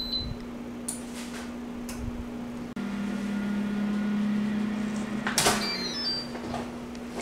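An air fryer set to 385 degrees starts up with a beep, then runs with a steady low hum and faint ticking, while a few clicks and a sharp beep sound over the top in a quiet kitchen.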